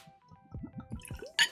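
A splash more Jack Daniels Tennessee Travelers Bold & Spicy whiskey is poured into a glass, giving a brief, close run of soft glugging drips that ends in a sharper splash.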